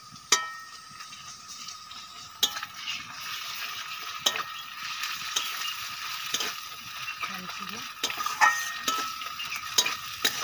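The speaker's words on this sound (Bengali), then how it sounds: "পেঁয়াজগুলো ভালো করে ভেজে নিয়েছি। এখন আদা রসুন বাটা দিয়ে দেব।" Ginger-garlic paste frying with browned onions in a pan for a Bengali duck curry, a steady broad sizzle with repeated scraping stir strokes and occasional utensil knocks, close and continuous with no talk.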